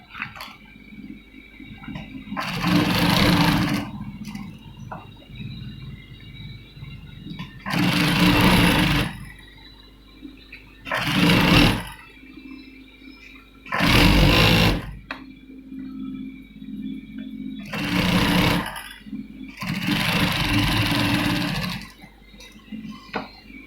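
A sewing machine stitches a gents' kameez in six separate bursts of rapid whirring, each a few seconds long, with quiet pauses between runs.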